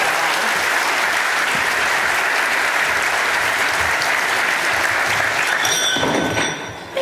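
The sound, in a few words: conference audience applause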